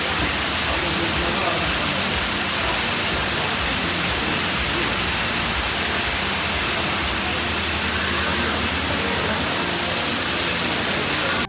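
A waterfall in heavy rain at the Ayatana resort in Coorg gives a steady, loud, broadband rush of falling water that stays unbroken and close throughout.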